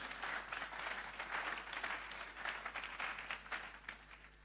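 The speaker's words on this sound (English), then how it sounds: "A round of applause for Mr. Wisdom Ezekiel. Put your hands together for him." Faint, distant applause from a summit audience for a guest speaker, a steady wash of many hands clapping with slight swells, heard alone without talk.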